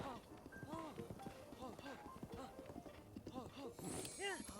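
Horse hooves clip-clopping at a run in the video game Zelda Breath of the Wild, a steady galloping rhythm heard close and moderately loud beneath a person talking throughout.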